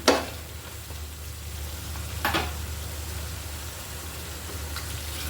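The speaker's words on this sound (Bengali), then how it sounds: "ভালো করে কষিয়ে নিচ্ছি আমি।" Pigeon meat being sautéed in a pan, a steady sizzle broken by two sharp spatula scrapes against the pan, close and fairly quiet.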